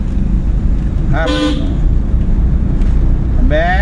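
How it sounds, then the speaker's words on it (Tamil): Two short car horn toots sound during a driving lesson over loud road and engine rumble, one early and another near the end, with people talking nearby. "ஃபுல்லாக எனக்கு ஹார்ன் அடிக்கணும்,"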